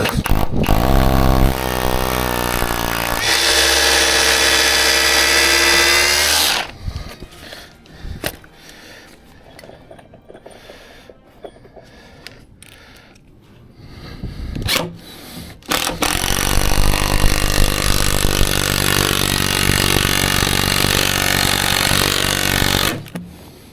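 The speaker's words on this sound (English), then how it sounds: "Now drilling." A power drill whines loudly at steady speed in two long bursts, drilling timber, with a quieter stretch of knocks and handling noise between them.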